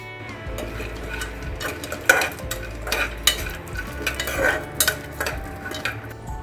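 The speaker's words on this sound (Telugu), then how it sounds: "ఇప్పుడు జీడిపప్పు బాదం నెయ్యిలో వేపుకొని వేసుకుందాం అందులో." Cashews and almonds fry in ghee, with a soft sizzle under repeated stirring and metallic clinks of a spoon against the pan, heard close with no talking.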